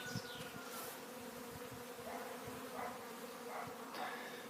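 Honey bees buzz steadily around the hive in the open air as workers bring in pollen and queens fly out on mating flights, a soft continuous drone with passing insect whines and no voices.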